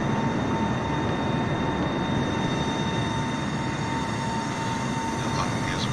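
Airliner jet engines roaring during a go-around in Microsoft Flight Simulator on a Heathrow to LAX flight, a loud continuous steady drone with a faint whine, no talk.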